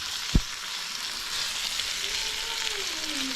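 Food frying in rendered fat, a steady close sizzle with a brief knock at the start, holding even throughout.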